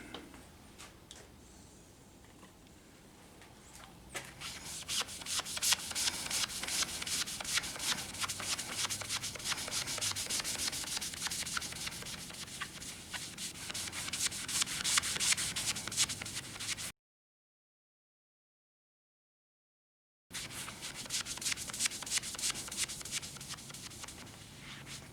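Steady rubbing and scrubbing on Atari arcade cabinet side art with rubbing alcohol, a dense papery swishing that runs continuously for about seventeen seconds, drops to silence briefly, then resumes.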